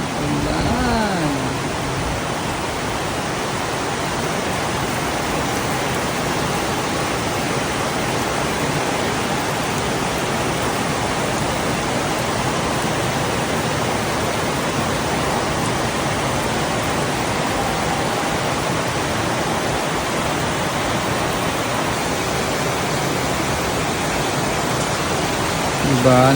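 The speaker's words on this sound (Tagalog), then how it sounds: "Lakas ng ulan." Heavy rain pours steadily in Davao, a dense, even hiss that holds at the same loudness for the whole stretch, with voices speaking faintly underneath.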